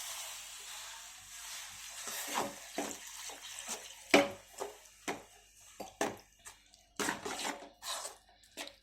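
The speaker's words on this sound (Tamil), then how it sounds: "அந்த தேங்காய் பாலை இதில் ஆட் பண்ணிக்கிறேன்" Coconut milk is poured into batter in a pan, then mixed, giving soft splashing, sloshing and intermittent scraping bursts, close and moderately quiet, with gaps of near silence between them.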